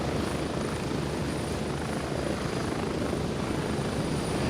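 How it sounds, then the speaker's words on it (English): A helicopter in the video game Gray Zone Warfare flies with a continuous, loud, dense rotor and engine roar that stays steady throughout, close up, with no talking. "the helicopter sound and the music doesn't mix very well"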